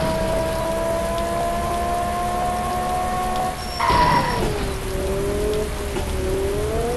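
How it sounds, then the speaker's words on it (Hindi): Dense, steady downpour of heavy rain hissing over a surface in the video game Indian Theft Auto Simulator, with a droning engine-like tone from a modified Fortuner rising and falling underneath and a brief thump midway. "एकदम से बारिश ही बारिश हो गई।"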